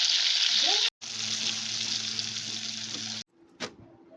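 Food sizzles in hot oil in a home kitchen during festive birthday cooking, a steady bright hiss broken by brief pauses, with a low hum underneath and a short clatter near the end.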